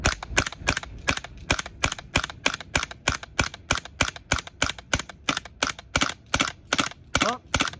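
A Tokyo Marui 5PC Carbine gas blowback airsoft SMG fires a long steady string of sharp, loud shots with snappy bolt clacks, evenly spaced, running out a half magazine close to the mic.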